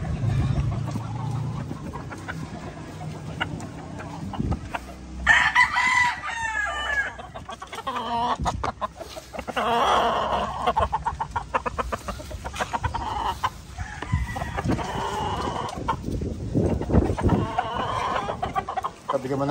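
Gamefowl stags crowing repeatedly with bursts of clucking while being fed their grain ration on a farm, the crows fairly close and loud over a busy background of other birds, with someone talking in between.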